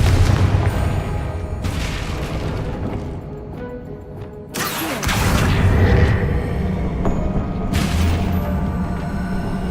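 Confringo blasting spell explosions in Hogwarts Legacy, with several loud, sudden booms and crashes, each followed by a rumbling tail, set against a continuous game ambience.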